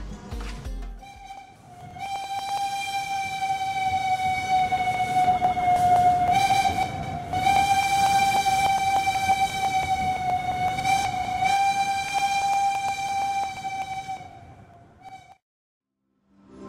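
A Menoreh passenger train bound for Jakarta runs steadily on the rails with a loud, sustained droning whine that swells in and holds for a long stretch before dropping away.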